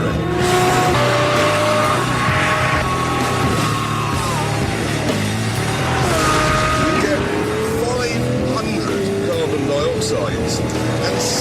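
A Lamborghini Murcielago LP640 with a 6.5-litre V12 drives hard, its engine note rising and shifting through several pitch sweeps, loud and close, with a voice talking over it at times.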